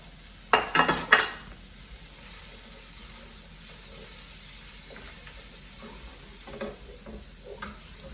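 Green and red pepper, onion and garlic sautéing in a pan with tomatoes, a burst of stirring clatter near the start and then a soft, steady sizzle with occasional light scrapes.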